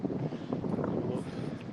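Steady wind buffeting a microphone, a low rumbling roar that runs the whole time with faint talk mixed in.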